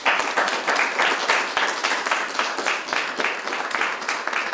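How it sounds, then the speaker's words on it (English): An audience at a comics festival panel on technology claps warmly for the panelists, a dense, even wash of applause that continues throughout. "Can we have a round of applause for our panelists?"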